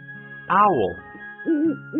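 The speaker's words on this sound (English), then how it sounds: "Owl." An owl hoots in a children's forest-animals song, one loud falling call followed by two shorter hoots over a steady musical backing.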